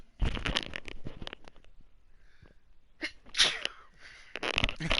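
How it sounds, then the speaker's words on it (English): A person sneezes several times in quick bursts, close to the microphone, while playing a Madden football game. Sharp, loud explosive blasts alternate with short quiet gaps. "If you heard me sneeze, I apologize."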